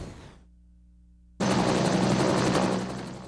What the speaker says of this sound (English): Inbound helicopters, rescue workers gearing up